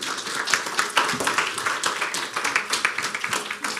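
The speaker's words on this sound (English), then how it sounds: "So go ahead and applaud." Audience applause at a financial and estate planning talk: brisk, close clapping from a small crowd, steady throughout with individual claps standing out.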